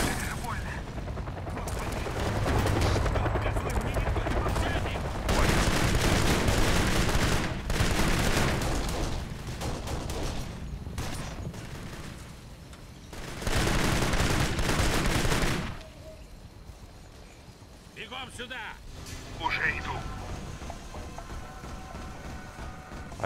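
Gunfire rattles in the Kane & Lynch video game in loud bursts and sustained volleys, separated by quieter gaps, with a helicopter around the combat and some talk mixed in.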